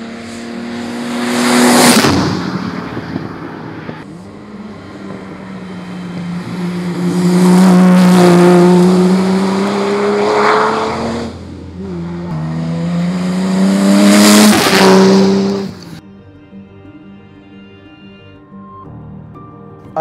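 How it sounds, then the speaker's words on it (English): Vintage Jaguar and Ferrari sports racing cars roar past on a circuit, three loud passes with rising and falling engine pitch, each swelling near and fading away before a quieter stretch. "as the leaders lap the smaller cars, number 18, Tony Rose Jaguar, breaks the lap record and flashes fastest into third place."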